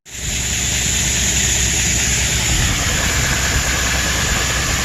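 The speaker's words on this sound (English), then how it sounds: "The auger's going good." Grain auger running during harvest, a 73-foot auger filling a bin, giving a loud continuous engine drone with steady rumbling and a high whine, close and unbroken, no voices.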